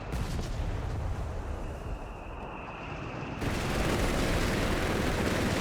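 Dense battlefield gunfire and mortar blasts in the Company of Heroes 3 strategy game form a constant loud, crackling barrage that swells louder partway through, with no voices.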